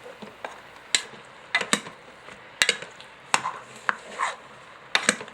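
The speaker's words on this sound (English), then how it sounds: "we're going to spoon some of the onion and garlic mixture back on top of it" Spooning an onion and garlic mixture onto a roast in a pressure cooker: irregular sharp clicks and scrapes of a spoon against the pot, close and fairly loud over a quiet background.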